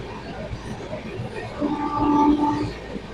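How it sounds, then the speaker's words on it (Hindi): A passenger train rolls past a station platform, a loud, close rumble with a sustained horn-like tone rising in the middle, running steadily for a few seconds. "तो कुछ ऐसा लगता है जब प्लेटफॉर्म से ट्रेन गुजरती है ना"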